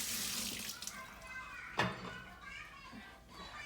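Running tap water splashes steadily into a kitchen sink as an apple is rinsed under it, with a brief louder gush near the middle and faint background voices.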